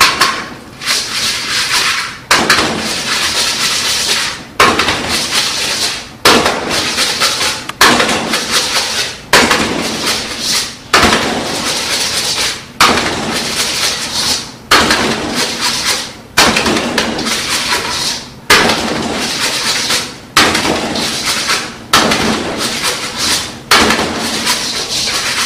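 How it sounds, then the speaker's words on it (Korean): A hand whisk beats softened fat for tart dough in a bowl during a pastry-certification lesson, giving loud, repeated bursts of scraping and clattering in regular strokes with brief pauses between them. "유지를 먼저 부드럽게 만드는 겁니다. 자, 거품기를 이용해서"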